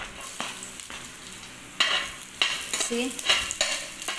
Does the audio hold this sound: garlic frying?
yes